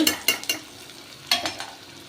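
Onions sauté in oil in a pan while a spatula stirs them, giving a few sharp scraping strokes over a soft, low sizzle, then a quieter pause before another burst of stirring.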